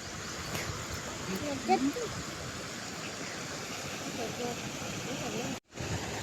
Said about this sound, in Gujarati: પાણીનો અવાજ આવે છે